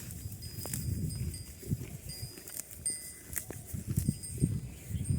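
Bulls let loose to graze on a farm, with bells jingling and clanking irregularly as the animals move about outdoors, over a low background rumble.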